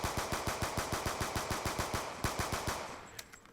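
Rapid-fire video game gunfire triggered by a Viking macro controller's rapid-fire trigger macro: a fast, steady burst of evenly spaced shots, about seven per second, loud and alone, tapering off near the end.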